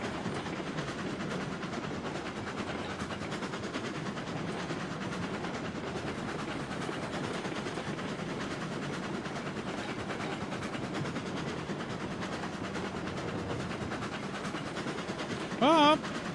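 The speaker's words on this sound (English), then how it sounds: "So I'm getting that starter train up the hill." A starter steam train in the Railroads Online game labors up a hill with a steady, continuous rumble of engine and rolling wheels, unbroken for the whole stretch, with a brief squeal near the end.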